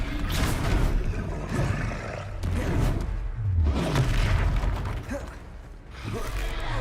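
Spell effects from the Hogwarts Legacy video game, Descendo and Levioso being cast in combat: dense whooshing, rumbling booms and mechanical thuds in a continuous loud wash, with bursts swelling and fading across the span.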